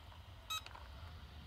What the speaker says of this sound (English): It's my EMF, and it beeps when I don't have an extra hand